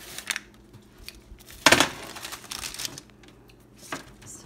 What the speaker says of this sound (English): Gonna go ahead and take them out of the oven.